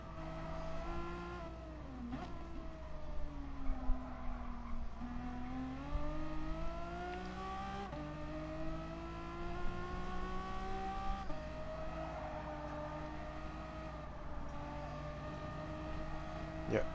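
A front-wheel-drive Volkswagen Scirocco race car in Gran Turismo Sport: a sustained engine drone rising and falling through gear changes, with tire noise and other cars close by, under faint commentary.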